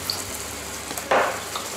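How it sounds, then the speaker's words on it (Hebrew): Cheese schnitzels hit hot oil in a pan with a sudden short sizzle over a quiet kitchen background. "טיגון ממש קצר, חצי דקה"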